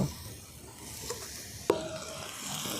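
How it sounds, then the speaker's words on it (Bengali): Country chicken curry meat fries down in a pan, a quiet steady sizzle with a couple of soft stirring scrapes and one sharper knock of the utensil against the pan. "এরপর আমি এই জলটাকে শুকনো হওয়া পর্যন্ত কষিয়ে নেব"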